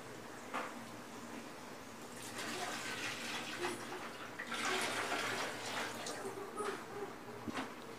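Water being poured into a pot of beef dum biryani, a steady running splash and gurgle that swells in the middle and continues for several seconds, fairly close and alone.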